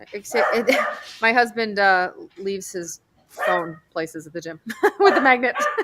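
A terrier barks and yips in short bursts, mixed in beneath a woman's steady, close conversational talk that dominates throughout.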